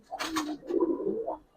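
Giribaz pigeons coo in a loft, a few soft throaty bursts close to the microphone with a faint clatter at the start.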